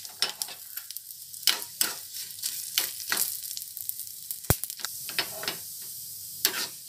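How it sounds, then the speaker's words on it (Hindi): Oil sizzles and crackles steadily as dal, curry leaves and whole red chillies fry in a pan for a coconut chutney tempering, with occasional sharp pops and scraping stirs. "अब हम इसको डार्क ब्राउन होने तक फ्राई करते हैं।"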